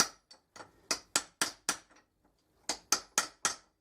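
Sharp metallic taps in two quick bursts, close and loud with silence between, as a bearing is pressed into an ELU MOF96 router with a vise.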